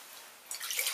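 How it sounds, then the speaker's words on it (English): A short splash of water being poured into a bowl to make Jello, a light trickling patter that starts halfway through and stays faint and close. "Go ahead and pour it in your bowl."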